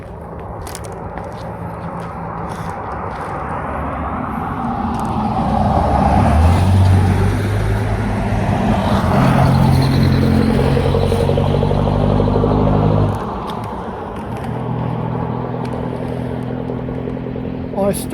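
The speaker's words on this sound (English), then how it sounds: "Here comes a car." A car approaches along a road and passes close by with a swelling engine and tyre roar that fades away, while people talk nearby.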